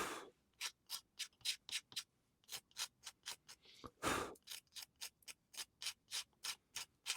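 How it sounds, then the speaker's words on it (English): Repeated scraping of a blade across scorched wood to clear off excess char, a steady series of short rasping strokes about twice per second, close and fairly loud with no talk. "I might use a trusty blade to scrape off the excess."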